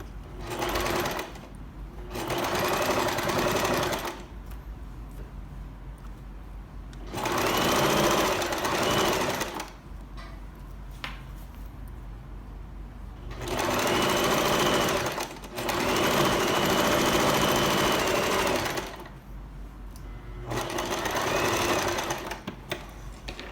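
A sewing machine stitches the side seams of a blouse in about five loud, steady whirring runs, each several seconds long, separated by short quiet pauses.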